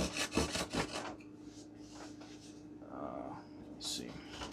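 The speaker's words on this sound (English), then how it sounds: "I'm going to do with the rasp." A rasp scrapes a wooden part for a Top Flite P40E Warhawk model airplane in several quick rubbing strokes, close and soft, followed by quieter handling sounds.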